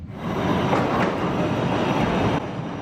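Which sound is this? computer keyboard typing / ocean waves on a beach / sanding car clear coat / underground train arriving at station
underground train arriving at station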